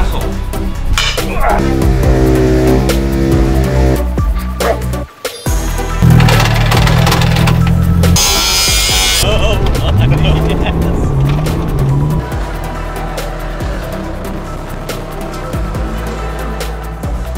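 A tuned Mazda Miata on a race track holds first gear, its engine revving loud and close with rising and falling pitch, while people talk over it.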